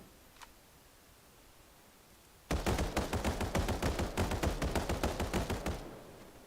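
A turret fires a rapid string of shots in the video game Final Fantasy VII: The First Soldier, loud and steady for about three seconds after a quiet stretch, then stopping.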